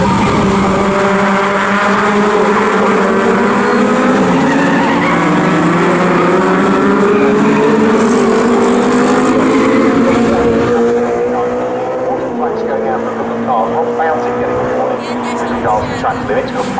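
Legends cars racing at Snetterton during a national championship heat, a loud sustained roar of several engines heading down toward a braking area, with a commentator talking throughout.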